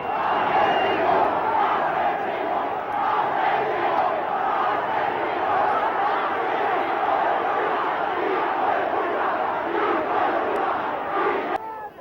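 A large angry crowd in Buenos Aires shouting abuse at the Argentine leadership, a continuous roar of massed voices that holds steady and loud throughout with no break.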